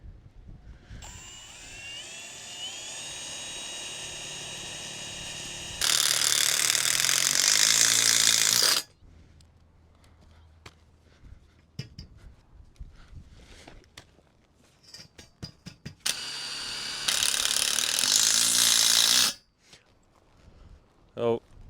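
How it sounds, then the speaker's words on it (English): A power drill whines in two long, loud bursts of a few seconds each as it pre-drills wood, separated by quieter handling noises and clatter. "We're gonna go ahead and pre-drill this with a bit"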